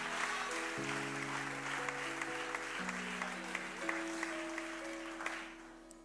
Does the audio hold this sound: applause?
yes